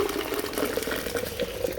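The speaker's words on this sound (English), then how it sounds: "So the first of the hot water washes." Hot water poured into acid during gold refining of 9 karat jewellery, a steady close splashing and bubbling liquid rush that holds throughout.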